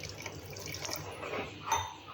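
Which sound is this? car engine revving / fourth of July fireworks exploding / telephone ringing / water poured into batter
water poured into batter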